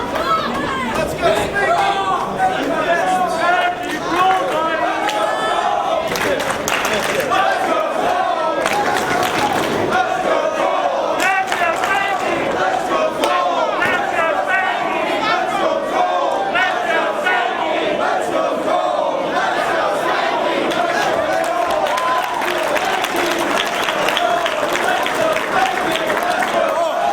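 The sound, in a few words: wrestling crowd in Dayton chanting and cheering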